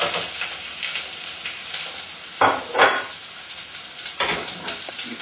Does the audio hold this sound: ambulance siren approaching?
no